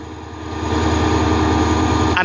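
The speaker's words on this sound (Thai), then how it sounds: "เพื่อนๆฟังเสียงเร่งเครื่องนะครับ" Alsthom 4401 diesel locomotive engine revving up at Bang Sue Junction, a close, rhythmic throbbing drone that rises in intensity and holds steady at full volume.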